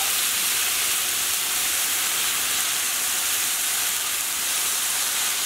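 About a quarter cup of water poured into a hot pan of kale erupts into a dense, even hiss of steam that holds steady and close throughout.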